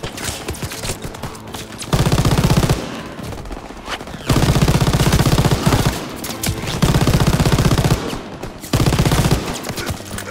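A Call of Duty WWII machine gun hammers out loud, rapid sustained bursts, three long strings of fire lasting about a second or two each, separated by quieter gaps of background battle noise.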